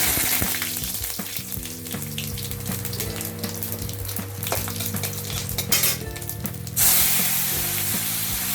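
Ginger paste fries in a pan while a khichdi and navratan dish is being cooked, giving a steady close sizzle over about eight seconds with a tonal, music-like layer running beneath it.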